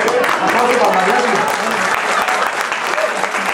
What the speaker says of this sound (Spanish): Aplausos para Mariachi.